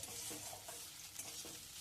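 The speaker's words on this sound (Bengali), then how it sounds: "পেঁয়াজটা দিয়ে এবার একটু নাড়াচাড়া করে পেঁয়াজটাকে একটু ভেজে নেব।" Sliced onions frying in a pan for a coriander, egg and masoor lentil dish, a steady hiss of sizzling oil with soft scrapes of a spatula stirring now and then.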